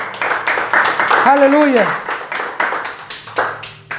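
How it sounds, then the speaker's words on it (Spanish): Church congregation applauding loudly, strong rhythmic clapping in quick bursts with a voice calling out over it partway through. "Bríndele un fuerte aplauso al Señor."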